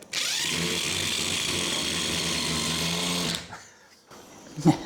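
A loud, steady motorized whir from a power drill driving screws during cabinet installation runs for about three seconds, then stops, followed by faint handling noises and a short knock.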